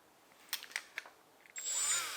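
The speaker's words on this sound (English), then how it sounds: "this is just a die grinder with a big extender on it" A few sharp clicks, then a battery-powered die grinder with a small sanding wheel on a long extender, its battery running low, whirs up to a high, steady spin close by.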